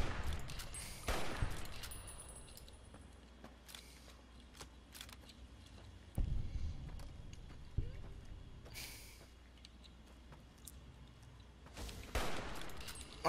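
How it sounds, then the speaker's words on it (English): Gunfire in a post-apocalyptic wasteland game, Fallout: Tale of Two Wastelands, erupts in several sharp bursts over a steady low background, with long gaps between shots. "And I'm being shot at."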